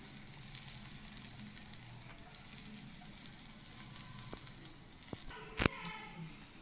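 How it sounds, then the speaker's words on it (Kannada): Butter-topped benne dosa sizzles on a hot pan with a steady, soft crackling hiss. A single sharp clink sounds near the end. "ನಂತರ ಈ ರೀತಿ ಬೆಣ್ಣೆನೆಲ್ಲ ದೋಸೆ ತುಂಬ ಎಲ್ಲನೂ ಹಾಕ್ಕೊತಾ ಇದ್ದೀನಿ"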